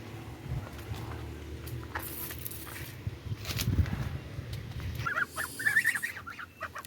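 A mother goose honks and hisses at close range amid outdoor noise, with a few sharper calls near the end.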